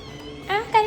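A cat gives two short meows in quick succession, close and fairly loud, over a quiet background.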